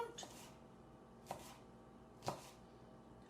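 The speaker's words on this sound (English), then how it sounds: "I'm going to cut up the onions, the green onions" Knife chopping green onions on a cutting board during home casserole cooking: a few quiet, widely spaced chops, faint and close, with no speech.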